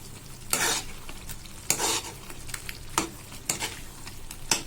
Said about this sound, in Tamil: சேர்த்துட்டு கலந்து விடணும்